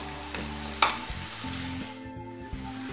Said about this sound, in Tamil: இப்போ வெங்காயம் பூண்டு எல்லாம் நல்லா வதங்கட்டும்.